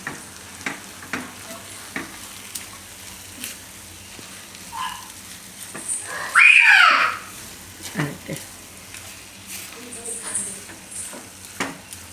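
A spoon mixes sandwich filling in a hot pan, giving repeated soft scrapes and taps over a light sizzle, with one louder, rougher stir partway through.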